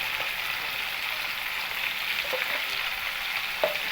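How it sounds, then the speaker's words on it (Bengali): Chopped carrot fries with salt and turmeric in a pan, a steady close sizzle with a few faint scrapes, and no one speaking. "লবণ আর হলুদ গুঁড়ো দিয়ে গাজর কুচিটাকে আমি খুব ভালো করে ভেজে নেব"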